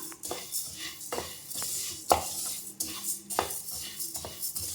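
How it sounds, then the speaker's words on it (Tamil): Spices for sambar powder are dry roasted in a kadai, with a spoon scraping and stirring in repeated metallic strokes and soft rattling of the spices. "கடாய் கொஞ்சம் காயிட்டும் நம்ம பாதி பாதியாக வறுத்துக்கலாம்"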